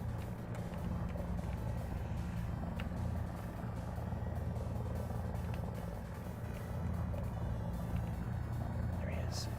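An AH attack helicopter in War Thunder drones with a steady low rotor and engine rumble, moderately distant, alongside other vehicle noise and occasional faint game sounds.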